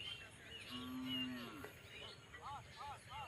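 Cows and calves moo beside a road: one long, low drawn-out moo, then several shorter calls close by, with no talking.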